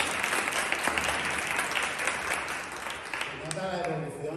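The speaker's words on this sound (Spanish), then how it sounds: "¡Un aplauso!" Applause from a group during a classroom-style game on non-verbal communication, a steady broadband wash of clapping that holds throughout and thins slightly toward the end as a voice begins to speak under it.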